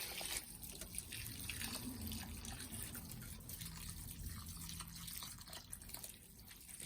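Water poured from a watering can onto potted dahlia tubers, a steady splashing and trickling wash that runs unbroken and fairly close throughout, with no talking over it.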